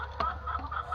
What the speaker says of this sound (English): because obviously there's hens in here